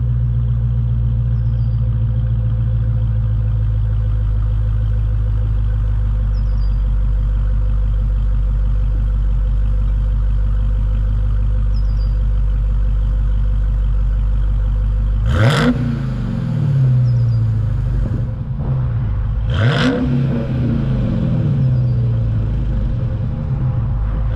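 A 2022 Dodge Charger Widebody Hellcat idles with a deep, loud rumble, then its supercharged engine is blipped twice in sharp revs that rise and fall back to idle, close by with no talk.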